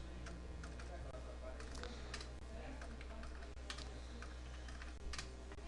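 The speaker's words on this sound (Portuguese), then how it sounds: "Primeira coisa, digitamos o horário aqui nos quadradinhos." Keys clatter on a computer keyboard as times are typed into timekeeping software, irregular quiet clicks in short bursts over a steady low hum, with a voice speaking softly in the background.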